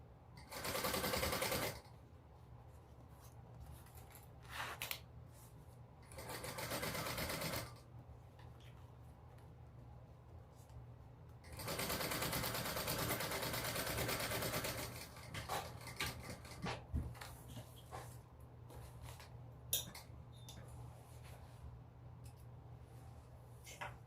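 A sewing machine top stitches and bastes a bum bag in a few short bursts with quieter pauses and handling noises between them.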